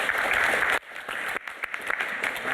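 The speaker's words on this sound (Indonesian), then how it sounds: "Tepuk tangan dong." Audience applause at a live Islamic talk-show taping, a dense burst of clapping that cuts off sharply, then resumes more thinly with scattered claps before fading under the room.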